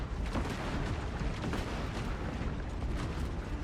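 Cannon artillery fire in a Space Marine video game battle: a dense, loud, unbroken roar of booming blasts and rumbling explosions that blur together into constant heavy noise with no pauses.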